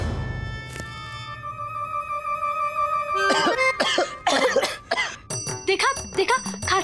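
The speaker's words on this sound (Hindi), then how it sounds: "देखा देखा, खांसी आई ना" A man coughs in a burst of repeated, harsh coughs that follow a sustained musical tone, set in a televised historical drama scene with background music playing throughout.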